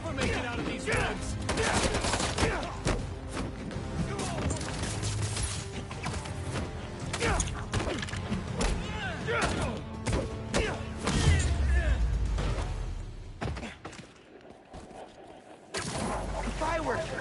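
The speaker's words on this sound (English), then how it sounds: "Fireworks!" Rapid bursts of crackling firework explosions and thumps in Marvel's Spider-Man 2 go off in dense volleys, loud and chaotic, with voices talking over them.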